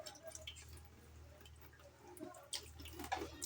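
Faint trickling and a few soft drips of a small amount of water being added while making akamu from fermented corn, close by and quiet, with no talking.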